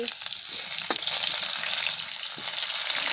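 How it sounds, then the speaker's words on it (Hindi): Onion tempering frying in oil for a potato and long bean curry cooked on a wood-fired clay stove, a steady loud sizzle with a couple of brief clinks, no voices. "आलू बरबट्टी रांधत हन तो ये प्याज के फोड़न डाली सवे"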